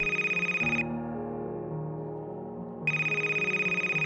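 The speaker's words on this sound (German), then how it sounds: "Ich tat meine Augen erneut auf und sah, dass es mein Telefon war." A telephone rings with a continuous trilling electronic tone that cuts out briefly and returns, loud and alone, with no voices.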